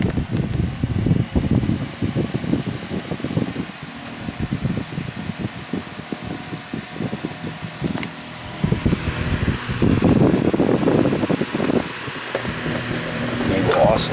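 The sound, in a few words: 1993 Advantage NR-7 oscillating fan running on high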